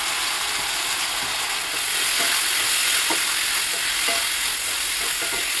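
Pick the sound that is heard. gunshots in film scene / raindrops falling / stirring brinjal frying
stirring brinjal frying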